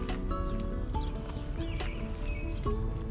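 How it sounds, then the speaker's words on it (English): A horse on a farm in St. James makes faint whinnying and hoof sounds under steady outdoor noise. "This is the horse."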